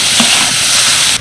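Chutney ingredients with Kashmiri chilli powder, salt and sugar stirred and fried in a pan, giving a steady close sizzle with soft scraping of the spoon throughout, cutting off abruptly at the end.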